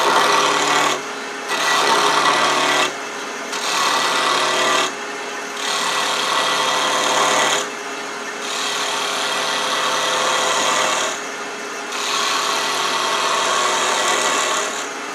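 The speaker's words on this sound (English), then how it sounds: "first thing we're going to do is round it off. Using the side of a 1/2 inch spindle gouge." Wood lathe work: a small piece of wood for a hot air balloon ornament is rounded off with the side of a 1/2 inch spindle gouge, giving steady loud rasping cuts in repeated bursts separated by brief pauses, with no talk.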